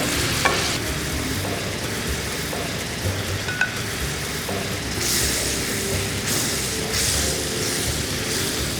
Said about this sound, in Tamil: இது நம்ம தேங்காய் பால் ஊற்றுறோம்